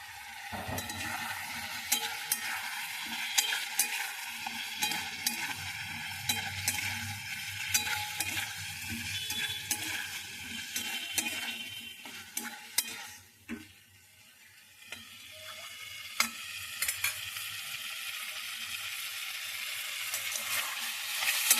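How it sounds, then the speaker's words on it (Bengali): Potatoes and egg sautéing in a pan, with a continuous close sizzle broken by frequent scraping and clinking as a spoon stirs, lasting a long stretch with a brief lull partway through. "আলুটা দিয়ে একটু কষিয়ে নিই"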